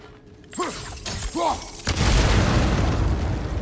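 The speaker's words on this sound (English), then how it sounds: "Lots of explosions." Video game explosions: two dull booms thud in quick succession, followed by a louder blast that gives way to a sustained roaring, crackling rumble.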